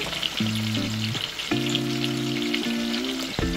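Salmon fries in a pan before going into sinigang, a continuous close crackling sizzle with scattered spatters. Steady background hums and tones sit under it without speech.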